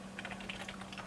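A few quick keystrokes tapped on a computer keyboard during a Windows 95 clean install on an IBM Aptiva, close and clear with no talking.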